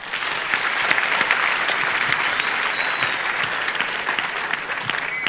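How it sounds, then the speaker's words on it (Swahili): Audience at a Kenyan school gathering applauding, a dense, steady burst of clapping from many hands that holds at an even level throughout, with no voices standing out. "Jipigiani makofi."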